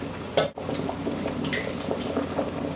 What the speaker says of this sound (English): You can hear my potatoes roaring, boiling.